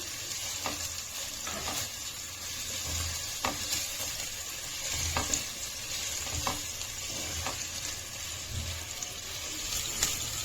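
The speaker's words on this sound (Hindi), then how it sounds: "अब इसके अंदर हम फटाफट से गोभी को डाल देंगे और इन्हें हम गोल्डन ब्राउन होने तक फ्राई करेंगे।" Cauliflower florets fry in hot oil in a frying pan, a steady close sizzle and crackle with occasional soft stirring clicks throughout, no voices.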